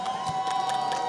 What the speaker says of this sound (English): if you're for the Red Alliance, make some noise.